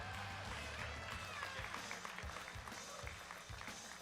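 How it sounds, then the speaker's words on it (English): Audience applause at a college national powerlifting competition, a steady wash of clapping from a crowd filling the hall, with a voice speaking faintly underneath. "Big round of applause for Bill Sindelar."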